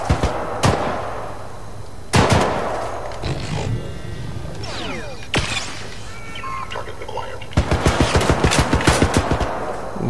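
A gun turret fires in the video game Syndicate, with scattered sharp shots early on, then a loud rapid burst of evenly spaced reports near the end, among other game noises.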